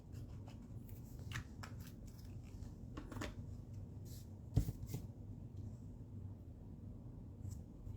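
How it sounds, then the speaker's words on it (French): Scissors trim excess paper from a handmade envelope, giving quiet, close snips and paper rustles over a low steady background hum. "Puis je vais découper l'excédent qui va dépasser."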